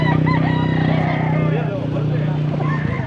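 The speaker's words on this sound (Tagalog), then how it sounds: "Ganda rin yung manok ni boss" A rooster crows over a steady engine hum, with people chatting nearby.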